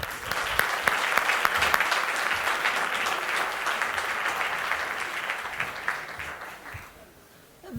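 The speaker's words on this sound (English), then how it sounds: "So 2 thumbs up and a round of applause for everybody here tonight." An audience at a signing ceremony between the City of Toronto and Film City applauds, a sustained dense round of clapping from a full room that fades out near the end.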